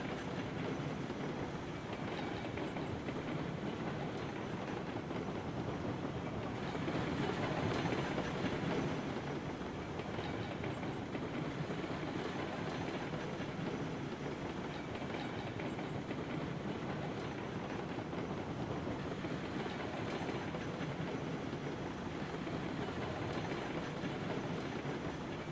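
Narrow-gauge three-foot train rolling in the Railroads Online game, a continuous rumbling run with rhythmic clickety-clack of wheels over rail joints, steady and fairly loud throughout with no voices.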